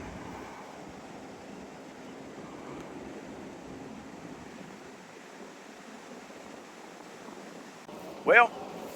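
Steady rushing wind roars across an open microphone at a cemetery in Nashville, Tennessee, for the whole stretch, ending with a brief louder thump or gust.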